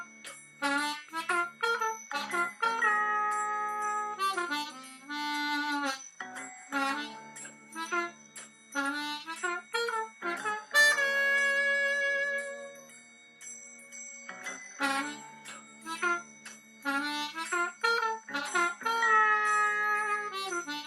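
A C harmonica plays alone, a steady run of sustained reedy notes and short phrases over about twenty seconds, close and moderately loud with no talking.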